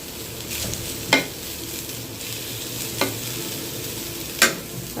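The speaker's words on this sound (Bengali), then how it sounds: "এখন পেঁয়াজটা দিয়ে দেবো।" Onion frying in a pan with cumin paste, a steady low sizzle running throughout, broken by three sharp stirring scrapes spaced a second or so apart.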